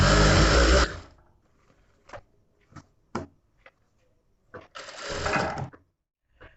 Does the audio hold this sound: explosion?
no